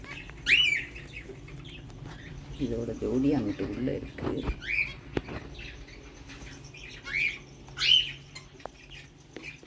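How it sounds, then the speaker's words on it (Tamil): A male princess parrot gives several short, bright squawking calls spaced across the stretch, fairly close, while someone talks in between and partly over them. "அது சவுண்டு கொடுக்குறது நல்லா கிளி பேசுகிற மாதிரி இருக்கும்."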